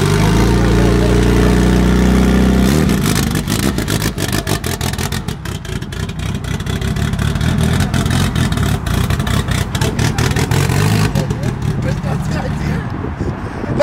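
A tuned turbocharged car engine cranks and fires into a loud, rough idle that settles into a steady drone, with people talking nearby.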